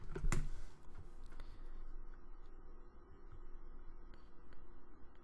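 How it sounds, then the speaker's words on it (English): Quiet, light clicking of keys being typed on a computer keyboard, a few soft taps in a short run, close but faint, with no talking. "so I have to type out Aliens vs. Predator"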